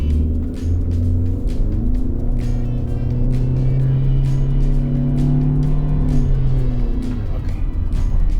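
Road noise inside a Wuling Alvez cruising at 60 km/h: a constant low rumble and drone with a faint engine hum, steady throughout with no talking.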